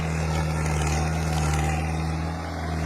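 A Mahindra 4x4 tractor engine lugs a heavy load of 600 potato bags, about 33 tons, with the front wheels barely touching the ground, giving a steady, loud low droning hum throughout with no talk.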